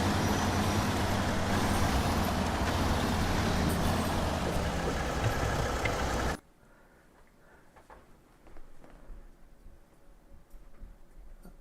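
A heavy truck in SnowRunner hauling a full load of logs uphill through mud, its engine droning loudly and steadily before cutting off abruptly, leaving faint ticking and low rumbles.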